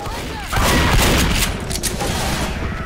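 Rapid bursts of gunfire in the zombie shooter Left 4 Dead, loud and dense, with a sudden onset of sustained automatic fire from close range mixed with game effects.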